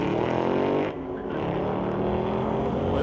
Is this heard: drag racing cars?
yes